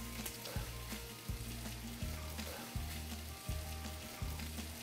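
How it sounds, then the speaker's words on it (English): A ribeye steak seasoned with salt, pepper and paprika searing on a hot skillet, giving a continuous dense sizzle with faint periodic thumps and a tonal backing layered underneath, with no speech. "There's salt, pepper, paprika on all sides. Onto a hot skillet."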